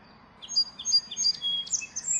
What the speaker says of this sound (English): Sparrow. Sparrow. The sparrow is small and cute.